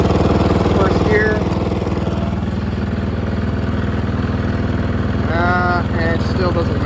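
A Snapper riding mower engine runs steadily in gear with a slipping clutch, producing a loud, close, even chugging drone; someone speaks briefly over it.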